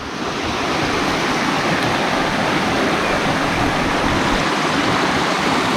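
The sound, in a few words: rushing water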